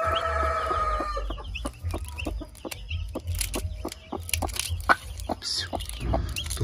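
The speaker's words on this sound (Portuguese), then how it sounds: "Essa galinha é muito brava, pessoal." A hen clucks repeatedly in sharp, irregular bursts, close by, with scattered scratching and rustling in between.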